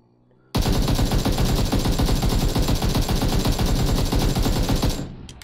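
An AKM rifle fitted with a flash hider fires one long continuous full-auto burst in a video game, loud and dense for about four and a half seconds before cutting off, with no talking.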